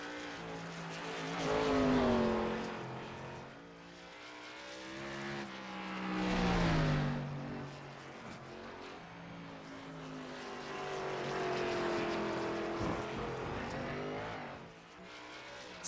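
A race car laps the Roval circuit, its engine swelling in and out as it passes in several surges, rising and falling in pitch from mid-distance.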